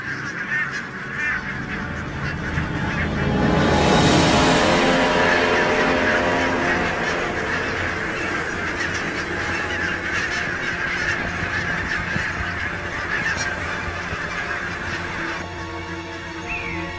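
A flock of geese on an island honks continuously, a dense overlapping chorus that swells loud early and stays busy throughout.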